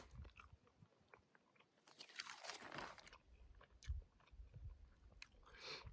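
Spicy squid snack being crunched and chewed outdoors on a desert hiking trail, close and fairly quiet, with irregular bites and crunches, one louder burst in the middle and more scattered chewing after.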